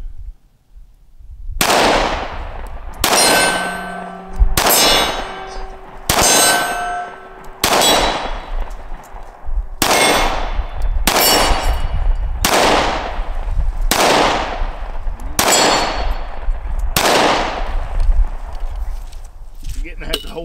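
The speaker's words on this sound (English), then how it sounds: "let's shoot these last couple mags" SCCY CPX2 pistol firing at an outdoor range, about a dozen sharp loud shots spaced a second or two apart, each ringing with a metallic clang from steel targets.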